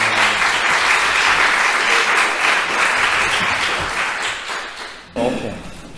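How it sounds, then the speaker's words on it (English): An audience at a housing activism talk in a hall applauds in sustained, loud clapping that fades toward the end before a voice cuts in briefly. "If you give them a round of applause"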